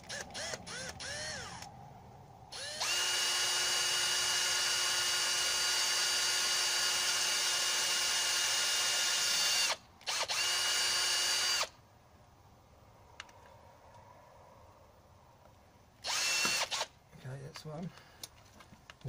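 A power drill whines steadily for several seconds boring a 2–2.5 mm hole in the rear crankshaft seal of a VW Golf Mk III, stops briefly, then runs again, followed by a short final burst amid small handling clicks.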